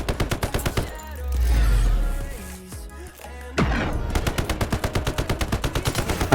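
Rapid automatic gunfire from a heavy gun in the shooter game Indus, fired in fast, evenly spaced shots, then a loud rumbling break midway before the steady burst resumes to the end.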